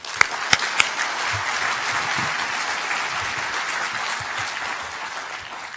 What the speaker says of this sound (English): a round of applause for Rafik and his team